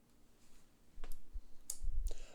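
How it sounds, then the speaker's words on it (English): A small part on a sewing machine bobbin winder drops and clicks into place, a few sharp clicks amid faint handling noise over about two seconds. "you might hear this piece fall and click"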